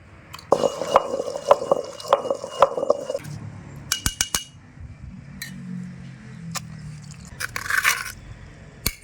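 Green chillies, garlic, tamarind and salt pounded and ground in a stone mortar, close sharp clinks and scraping strokes in rhythmic bursts, then a softer wet grinding rumble and further scrapes.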